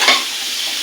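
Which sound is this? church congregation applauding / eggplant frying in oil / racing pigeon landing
eggplant frying in oil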